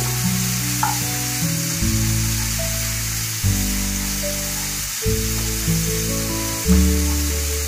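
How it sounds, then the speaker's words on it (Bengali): Garlic fries in oil in a pan over a low gas flame, giving a steady close sizzle and crackle with faint stirring scrapes and no talking. "রসুনটা আমি গ্যাসটা কম করেই ভাজছি।"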